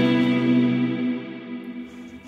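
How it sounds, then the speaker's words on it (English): Baby Audio Crystalline algorithmic plate reverb on electric guitar: a sustained, smooth chord rings out with a lush, slowly decaying reverb tail, fading steadily over a couple of seconds with no talking. "That's a beautiful sounding plate reverb."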